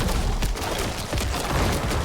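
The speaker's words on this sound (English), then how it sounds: "you can just press blood pulse and then watch, you know, all your corpse explosions go off" Corpse explosions in a video game set off together, a dense, continuous rumble of overlapping blasts and crackling bursts that stays loud and steady throughout.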